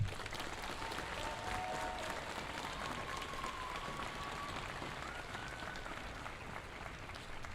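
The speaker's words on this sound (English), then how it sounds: "Would you please give a big round of applause for Annie Jaquette?" Steady applause from an audience at a middle school graduation ceremony, sustained even clapping from a large crowd at moderate distance throughout.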